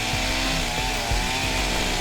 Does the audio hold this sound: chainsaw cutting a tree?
yes